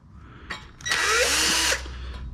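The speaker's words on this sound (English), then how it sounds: "If you are going to use your drill, set the torque kind of low." A power drill drives screws while a ceiling fan is being assembled. After a light tap there is a single close, loud, steady whir lasting just under a second, and then it cuts off.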